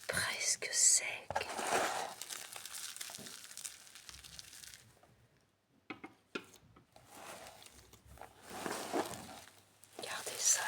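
Dried wild herbs gathered in the Algarve, Portugal, rustle and crinkle as they are handled up close, in soft, uneven bursts with pauses, alongside quiet speech.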